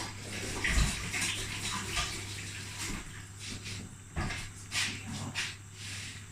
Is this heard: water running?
yes